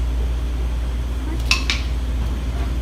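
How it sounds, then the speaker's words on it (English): A canning jar lid pops as it seals after the jars are filled with vegetables, salt and boiling water. Two quick bright metallic clicks sound close together over a steady low kitchen hum. "just making sure you're listening for that popping noise"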